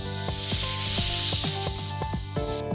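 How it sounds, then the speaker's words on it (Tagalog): Snake raising its head and hissing at a cat, a series of sharp, forceful broadband hisses repeated in quick bursts roughly every half second, close and loud with no voices. "paglikha ng tunog na tinatawag na hiss"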